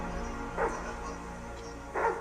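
A dog barks twice from a television show, two short spaced barks set into a steady background of soundtrack noise.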